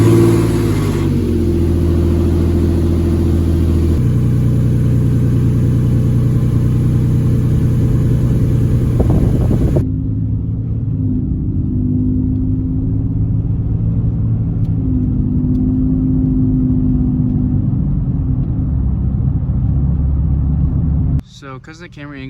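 A Nissan Frontier pickup truck on a test drive, its engine humming steadily with a low, continuous cabin rumble that shifts in pitch as it drives along.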